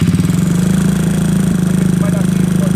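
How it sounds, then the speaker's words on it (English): A GY6 scooter engine cranks and turns over steadily with a loud, rapid, even mechanical pulse that runs throughout at close range. "I'm going to crank the engine over and we're going to see where that exhaust is coming out."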